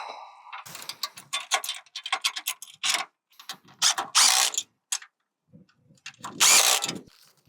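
A 10mm wrench and socket ratcheting gate bolts tight during a gravity gate installation: rapid clicking bursts in uneven runs, close and fairly loud, separated by brief silent gaps.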